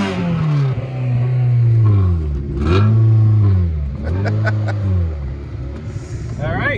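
A Honda CR-V engine is revved up and down several times, up close, its pitch rising and falling in repeated swells.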